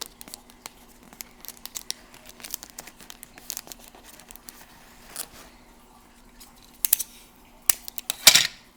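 Masking tape is pulled and pressed over a small crack on a seed-starting container, giving soft crinkles, a few sharp rips and a louder tearing burst near the end, with no talk.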